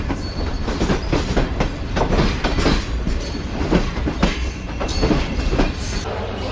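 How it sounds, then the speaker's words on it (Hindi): A train pulls into platform 1 at Hyderabad Junction, a loud steady rumble of rolling wagons with rhythmic clickety-clack and faint wheel squeal, with no voices over it. "हैदराबाद जंक्शन के मेन प्लेटफॉर्म यानी प्लेटफॉर्म नंबर 1 पर लग रही है ट्रेन इस वक्त।"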